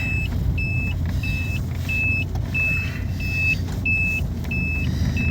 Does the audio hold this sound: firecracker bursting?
no